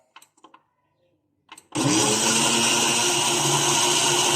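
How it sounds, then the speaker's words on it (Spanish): A few soft clicks and taps, then a blender with yellow potato for ají sauce roars to life abruptly and runs loudly and steadily at close range. "Voy a prender la licuadora"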